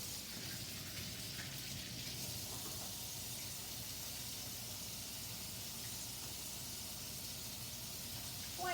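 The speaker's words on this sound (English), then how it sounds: "I'm gonna do is wash my hands" Tap water runs steadily as hands are washed before baking brownies, a soft continuous hiss heard faintly from nearby with no one talking.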